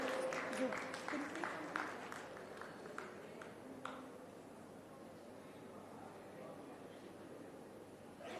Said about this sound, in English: Ladies and gentlemen, keep clapping